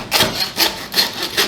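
A saw cutting along a rack of lamb, four rhythmic rasping strokes about 0.4 seconds apart, close and loud.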